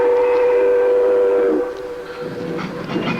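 A train in a film scene sounds a long steady whistle-like tone over rumbling cars for about a second and a half, then falls to a quieter rolling clatter.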